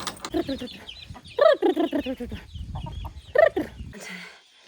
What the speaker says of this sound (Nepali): कुखुराहरू कराएर घरमा आएपछि